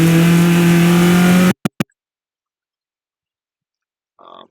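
Race car under full throttle on the VIR North track, a loud, steady engine roar cresting a hill for about a second and a half, then cut off by two sharp bursts and silence, with a faint mechanical noise near the end.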